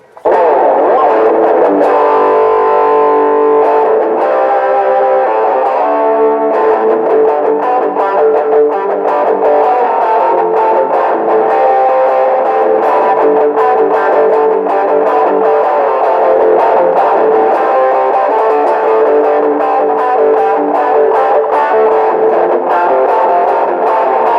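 Electric guitar played through a small Ammoon Pockamp mini amp turned all the way up, a loud, dense distorted tone strummed continuously for over twenty seconds with steady chords and no voices.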